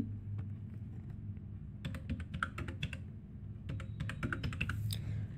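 Quiet keyboard typing: soft clusters of quick key clicks in irregular bursts over a low room hum.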